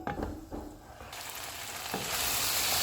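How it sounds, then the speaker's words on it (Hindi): Mutton with yogurt and fenugreek frying in a karahi over a medium flame: a sizzle that starts moderate with a few stirring scrapes, then swells into a louder, continuous hiss of hot oil. "मेथी डालेंगे और इसको भून लेंगे।"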